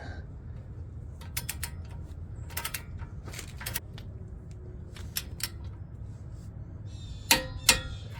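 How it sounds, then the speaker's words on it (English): A torque wrench tightens the inner tie rod end nut on a 2004 Dodge Ram 1500 two-wheel drive, giving scattered mechanical creaks and clicks, with two sharper clicks near the end. "And we are going to torque this nut to about 45 foot-pounds."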